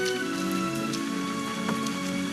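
Steady spring rain falls and patters on a surface in a dramatized scene, a continuous close hiss of drops with no voices.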